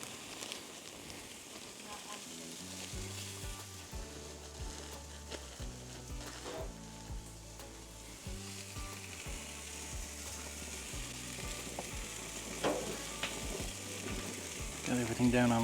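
Donair burgers and buns sizzle over an open-flame grill, a steady close crackle with clacks of a spatula or tongs and rattling of the grill grate, quiet and without talk.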